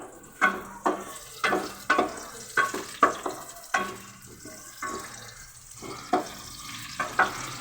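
Onions cooking in a pan for a spicy black chickpea chaat, with a spoon clattering and scraping in repeated stirring strokes over a low steady sizzle, close and fairly quiet, no voices.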